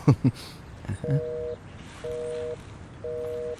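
After a telephone call is cut off, three evenly spaced flat beeps follow a few short bursts of voice, each tone about half a second long with quiet gaps between.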